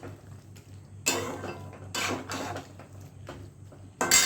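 Spices being mixed into boiled soybeans in a pan for a soybean curry, heard as several loud scraping and clattering strokes of a spoon against the pan with quieter stirring between them and a low steady hum underneath.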